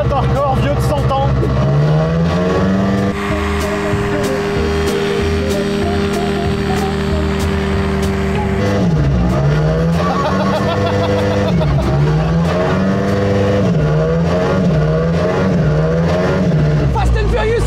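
A car driven by a propeller engine roars loudly and continuously, its pitch rising and falling in long sweeps and wobbles as the engine revs close by.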